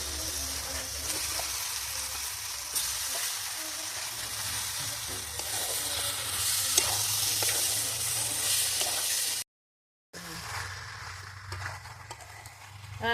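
Meat sizzles and fries in a pan with cumin and coriander powder, giving a steady, loud hiss with occasional stirring scrapes before a brief cut and the frying continues.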